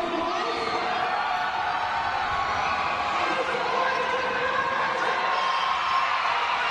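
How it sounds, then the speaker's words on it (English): Basketball crowd in a Manchester arena cheering for Great Britain during a FIBA Women's EuroBasket qualifier, a steady dense roar of voices with whoops, sustained at moderate loudness throughout. "Crowd trying to get behind GB in here."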